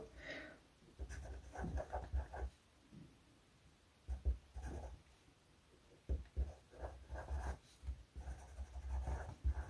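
Pen writing on scrapbooking paper, a hard surface to write on: repeated scratchy strokes in short bursts with brief pauses, close and fairly quiet, no voices.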